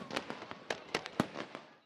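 Fireworks crackle in a quick irregular string of sharp pops and bangs, fairly faint and somewhat distant, with no talking.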